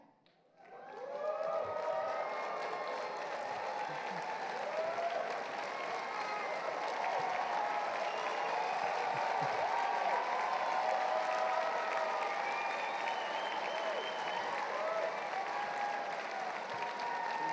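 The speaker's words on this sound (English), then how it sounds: "We would like to give you a round of applause to honor and recognize you." A packed hall at a college graduate commencement ceremony gives a long, steady round of applause honoring the mothers in attendance, a dense wash of many hands clapping at an even, moderate distance throughout.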